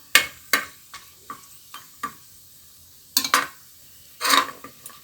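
Whole garam masala spices stirred in hot oil in a pan for vegetable pulao, giving several short scraping and rustling strokes spaced irregularly, with brief soft sizzle and no voices.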